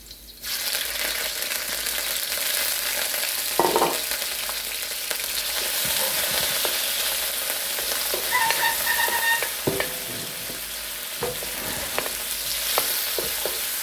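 Shrimp stir-fried with garlic in an oiled pan for Korean japchae sizzles loudly and continuously, with occasional spatula scrapes and clinks breaking through the hiss.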